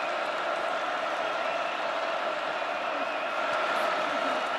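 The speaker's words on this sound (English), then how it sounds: "And this Kansas crowd is getting into it." Kansas home crowd at a college football stadium against Iowa State, a steady broad roar of distant cheering and noise filling the stands without letup.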